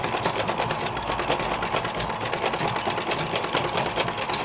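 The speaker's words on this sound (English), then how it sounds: "then I'll sew from here again to hold it down to that point" A sewing machine stitches a princess dart bustier, running steadily at close range with a fast, even mechanical whir and rapid needle clatter throughout.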